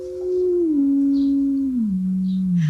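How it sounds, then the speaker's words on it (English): A small electronic tone generator sounds a steady, loud pure tone that steps down in pitch twice, gliding lower in stages with no voices. "let me introduce this little electronic generator here, which produces a sound like this"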